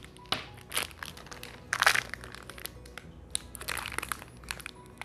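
Plastic packaging crinkles and crackles in several irregular bursts, close up, with a louder crushing rustle near the middle.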